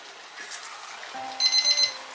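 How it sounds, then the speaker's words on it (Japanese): An alarm tone goes off in a home kitchen, a short run of bright repeated electronic beeps that rises over quiet background talk and low room noise. "何のあれ？ アラーム。"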